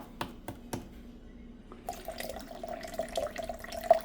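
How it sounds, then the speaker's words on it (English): Water drains through a Primo water cooler being flushed of built-up crud: a few sharp drips and taps at first, then a steady trickling flow with a faint ringing tone, close and fairly quiet. "Pour water in here and keep draining it because they had all kinds of crud in there"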